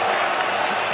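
A stadium crowd at a Brazil versus Argentina friendly football match gives off a brief, dense wash of noise, booing as a substitution is made, steady and loud across one second.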